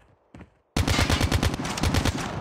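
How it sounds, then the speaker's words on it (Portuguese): Rapid gunfire in a shooter video game, a dense loud burst of repeated shots starting abruptly after a brief quiet moment with a faint earlier pop. "Atirando."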